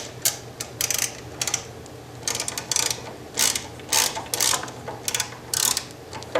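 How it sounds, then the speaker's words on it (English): Ratchet wrench tightening a bolt to compress a saggy car door hinge spring, giving repeated bursts of close metallic clicking in an uneven rhythm, with no talk. "Literally you take this tool, shove it up into there, and then you tighten your bolt down."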